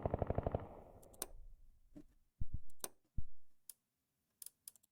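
Machine gun fire in the Cold War strategy game Mobius Front '83: a rapid burst of rounds at the start, then scattered single sharp cracks and clicks with silent gaps between, no voices.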